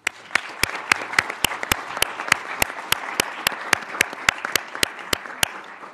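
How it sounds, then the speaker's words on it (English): Conference audience applauds steadily for about six seconds, a dense wash of clapping with sharp regular peaks from one nearby clapper standing out against the crowd, after a long day of talks on cyber threats. "please join me in a round of applause to thank our great speakers"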